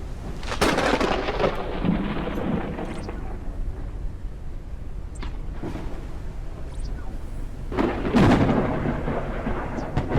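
A thunderstorm rolls through a video game world, with deep rumbling thunder cracks and bursts of crashing lightning breaking over a constant wash of rain and wind, loud and close, with no voices.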